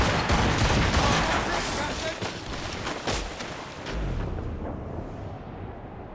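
Heavy ship cannon fire in Assassin's Creed Rogue booms out as a loud, continuous barrage of rumbling blasts that gradually fades toward the end.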